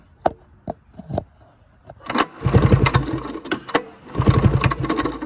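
A 1981 Polaris snowmobile engine being pull-started: a few sharp separate rope pulls at first, then repeated cranking bursts with rapid chugging compression pulses, close and loud, with no talking.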